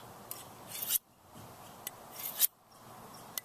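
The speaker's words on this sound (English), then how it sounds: "we're going to put pressure from this hand onto the steel, so this hand pushes up, this hand pushes down, and we're going to draw it back" A knife blade is drawn along a sharpening steel in two slow, scraping strokes, each building to a bright metallic ring at the end, close and fairly quiet.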